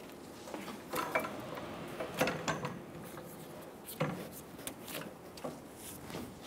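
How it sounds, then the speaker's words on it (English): A jack is worked under the rear axle of a 2014-2018 Chevrolet Silverado 1500, giving quiet mechanical clicks and ratcheting knocks at irregular intervals over a low background, with no voices. "Install the jack under the rear axle."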